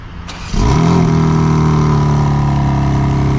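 A 2025 BMW M4 Competition xDrive, remote started, cranks and starts with a deep rumble, settling into a loud, steady idle through its quad-tip dual exhaust.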